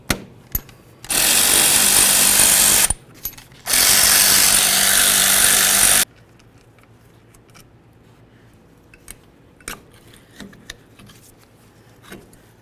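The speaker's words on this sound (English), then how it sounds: "go ahead and remove our caliper to caliper slider bolts" Caliper slider bolts are removed from the brakes of a 1994–2004 Chevy S-10. Two loud, harsh bursts of a power tool each run for about two seconds, then scattered light clinks and taps of metal tools follow.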